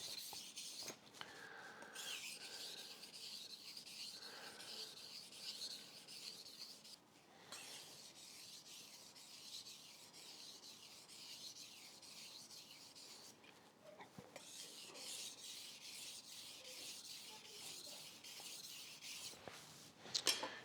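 A kitchen knife blade is drawn in long, even strokes across a sharpening stone, giving a steady soft rasping scrape that runs nearly continuously, close up and moderately quiet.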